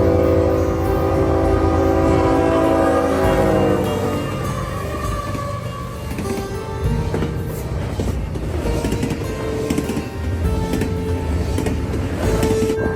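A freight train led by an X-Series locomotive sounds a loud, sustained horn blast, then rumbles past close by with steady, clattering wheel and engine noise.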